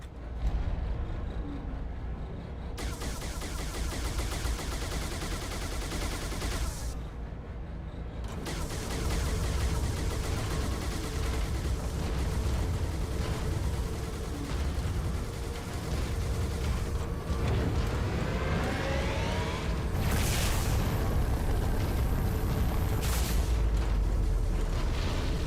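Turret gunfire from a modded Halo 3 game, heard as continuous loud bursts and booms with mechanical clatter running through the whole stretch, growing heavier toward the end, with no talking.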